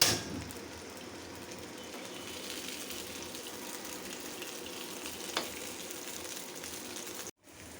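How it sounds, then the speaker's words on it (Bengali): Eggs fry in a pan with a continuous soft sizzle and crackle heard close up, holding steady until a brief drop-out just before the end. "ডিমগুলি ভাজতেছি।"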